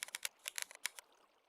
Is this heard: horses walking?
no